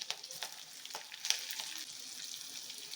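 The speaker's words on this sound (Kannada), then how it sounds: "ಈಗ ನಾವು ಸ್ವಲ್ಪ ಕೆಂಪು ಫ್ರೈ ಮಾಡ್ಕೋಬೇಕು ಈರುಳ್ಳಿ." Chopped medium onion and curry leaves frying in a hot pan, a steady soft sizzle with faint crackles and occasional stirring scrapes, fairly quiet and close with no talk.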